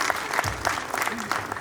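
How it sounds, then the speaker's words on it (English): An audience at a hotel-industry conference panel session applauds the panelists, a short burst of steady clapping from a crowd, moderately loud and continuous. "Let's give a round of applause to our panelists as they take their places."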